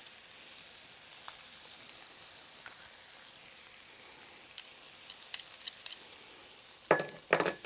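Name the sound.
onion and garlic sizzling and being stirred in a pot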